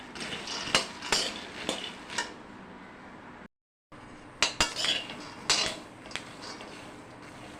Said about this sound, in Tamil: வேர்க்கலை வறுத்துக்கலாம் கொஞ்சம் நல்லா வறுத்த பிறகு காட்டுறேன்